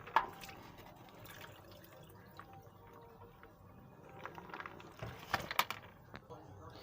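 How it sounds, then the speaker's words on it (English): Soaked grain mixture and rinse water poured into a container while making ogi pap, heard as soft splashing and dripping with louder bursts near the end. "so I'll pour everything inside, and then the last rinsing."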